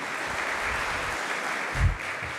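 A lecture audience at a talk on life and business management applauds in a steady, moderately loud patter of many hands, with a few low thumps near the end.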